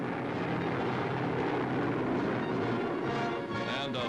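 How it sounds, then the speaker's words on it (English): A squadron of P-38 fighter aircraft passes overhead in an aerial salute, a loud sustained engine roar filling the scene from start to finish, with a narrator speaking over it. "Aerial salute for the graduating class from a squadron of fast P-38s."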